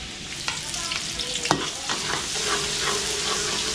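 Garlic and onion sautéing in a pan, a steady close sizzle of frying with a spoon stirring and scraping against the pan now and then.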